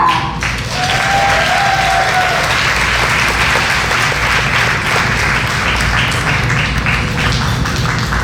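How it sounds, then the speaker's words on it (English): Audience applause at a scholarship gala, steady dense clapping from a crowd that holds loud and even for several seconds, with a faint whistle or cheer early on. "Let's all go ahead and give a round of applause for Monica Elvia."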